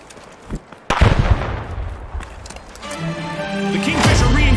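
A frag grenade going off in the game The Finals: a sharp loud blast near the start with a rumbling tail, followed by rising clattering effects and a swelling whoosh.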